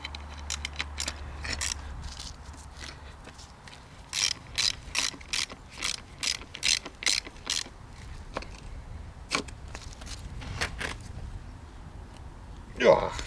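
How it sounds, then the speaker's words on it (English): A ratchet tightens a nut on a Citroen 2CV damper, with quick bursts of clicking strokes in uneven runs, close and moderately loud, under occasional talk. "now we should be able to tighten the nut much more tightly than I could before"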